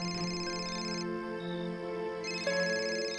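A phone rings with a steady melodic ringtone, a sustained tonal tune that pauses briefly midway and resumes, fairly faint in a quiet room.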